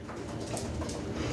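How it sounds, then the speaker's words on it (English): Pigeons or doves coo softly among other bird calls, a low, continuous layer of indoor bird noise with no speech. "hope these birds don't start going crazy"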